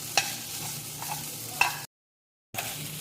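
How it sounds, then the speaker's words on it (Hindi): Marinated chicken fries in a pan with a steady moderate sizzle and a few sharp stirring clicks, broken by a brief silent gap before the frying resumes. "तो 5 मिनट लगेंगे इसको फ्राई करने में।"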